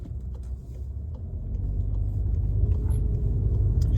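2.0-litre 245 hp Volkswagen Golf VII GTI accelerating, heard as a low engine rumble that swells and grows steadily louder, with no talking.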